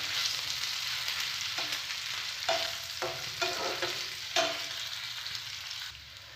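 Semolina balls are stirred in a pan with salt and spices over a soft background sizzle. Several distinct spoon scrapes come at irregular intervals, with no voices.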